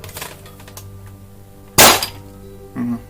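A modified Nerf Kronomag blaster fires a dart with one sharp, loud crack, followed moments later by a shorter thud, after a stretch of faint handling clicks.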